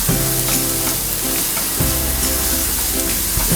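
Onions fry in a pan with a loud, continuous close-up sizzle and hiss, broken by a few scraping stirs.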